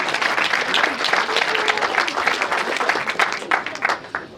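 Wedding guests clapping during a reception speech, a dense, lively round of applause from many hands that swells and continues for several seconds, with sharper individual claps standing out toward the end.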